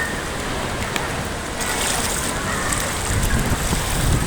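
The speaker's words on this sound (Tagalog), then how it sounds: "Grabe baha dito guys oh." Typhoon Kristine floodwater rushing through a village neighborhood, a steady broad wash like a river current, loud and continuous with wind-like noise throughout, no talk over it.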